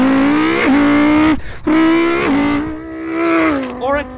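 A human voice imitates an Audi R8 engine, producing sustained buzzing revs that climb and fall in pitch, with a short break and a final upward rev, loud and close.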